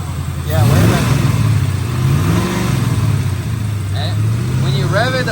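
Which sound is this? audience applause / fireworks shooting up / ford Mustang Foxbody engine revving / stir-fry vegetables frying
ford Mustang Foxbody engine revving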